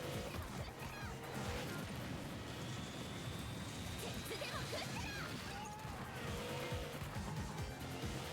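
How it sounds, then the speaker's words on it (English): A car in the Screamer 2 racing game drags a broken piece of bodywork, a dense continuous scraping and grinding under loud engine roar, with brief screeching squeals. "I'm dragging a piece of car alongside me."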